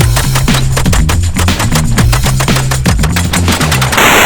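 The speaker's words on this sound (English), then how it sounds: "All right, slugs through the Panzer." A Turkish Panzer shotgun firing slugs in rapid succession, a loud, close, continuous string of heavy booming shots with barely a pause between them.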